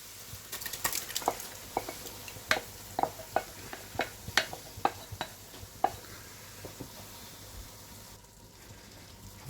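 Chopped tomato being stirred into a pot of chili con carne for eight people, with irregular sharp scraping and knocking clicks of the spoon over a low, steady background sizzle.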